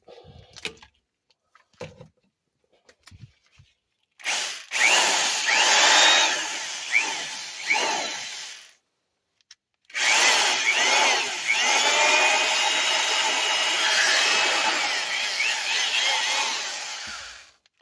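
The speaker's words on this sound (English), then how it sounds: "this is a 1200 RPM drill, so it's not a real fast spinner" A vintage 1200 RPM Black & Decker electric drill whirs loudly in two long runs separated by a short pause, with a few clicks and handling noises before it starts.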